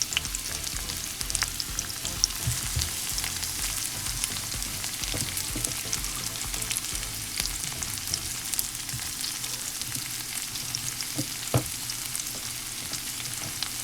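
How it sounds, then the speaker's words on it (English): Onions and garlic sauté in a skillet with a steady, dense sizzle and crackle, continuous and fairly close, with occasional stirring clicks and no talking. "we're getting ready to go over to the skillet so that we can saute the onions and the garlic. And listen to the sizzle."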